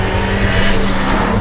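A turbocharged B18C engine in a 400 hp Honda Civic Si EM1 with VTEC, roaring steadily at high revs, loud and close, with a dense, gritty drone throughout and no talking.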